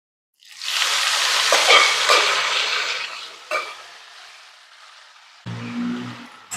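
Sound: frying beetroot with masala in coconut oil

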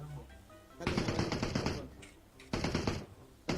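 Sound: gunfire in video game PUBG Mobile

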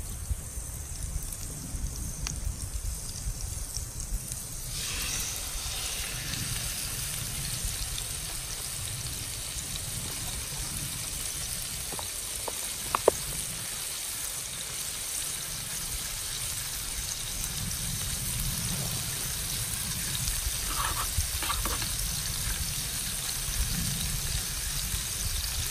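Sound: steak frying in hot pan on Trangia 27 stove

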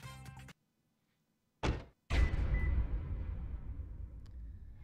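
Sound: car door slammed shut

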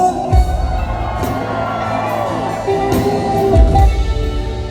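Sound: concert audience shouting along to a song

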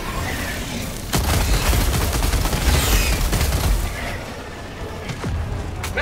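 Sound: gunfire in the video game Helldivers 2

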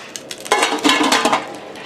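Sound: covering a pot with a lid

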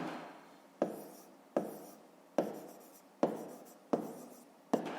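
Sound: pen writing on paper

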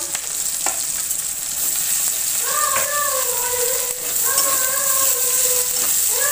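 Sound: garlic frying in oil in a pan

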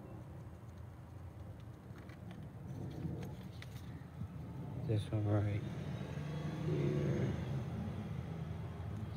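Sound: cars passing on a nearby street

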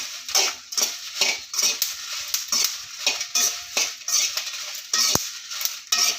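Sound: dry red chillies being stirred and roasted in a pan

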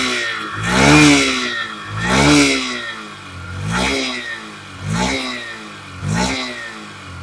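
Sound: Honda CD110 Dream Deluxe motorcycle engine accelerating

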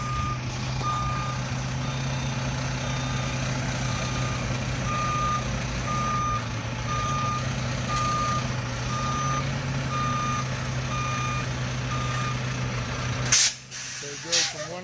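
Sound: truck reversing with backup beeps

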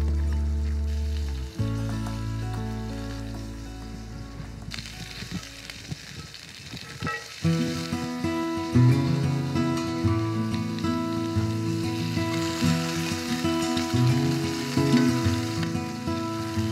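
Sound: sauteing carrots and browning meatballs

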